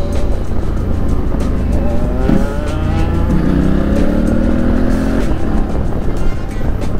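Several motorcycles ride up a steep, narrow mountain road, their engines a loud, continuous close drone with rising and falling revs and a brief squeal midway.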